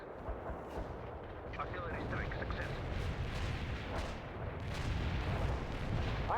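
Artillery barrage in the real-time strategy game World in Conflict, a dense rumble of overlapping booms and blasts rolling on throughout, with game voices talking over it.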